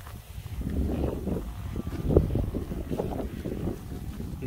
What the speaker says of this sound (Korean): 바람이 좀 많이 부네요.